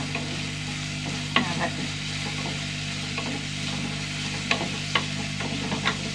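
Onions frying in a pan on a home stove, a steady close sizzle under repeated stirring with scattered sharp utensil clicks; no one speaks.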